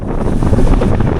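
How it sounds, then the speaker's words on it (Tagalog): A strong crosswind buffets a cyclist's microphone on a highway during a North Luzon bike loop, a loud, steady, rumbling roar that fills the whole stretch with no voices. "Mas malakas yung hangin sa gilid."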